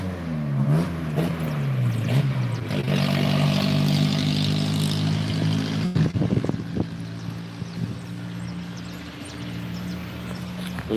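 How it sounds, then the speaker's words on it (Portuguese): A noisy car passes on a road, its engine hum rising and falling over several seconds, followed by clattering and knocking sounds near the microphone. "Agora vem um carro aí com barulho."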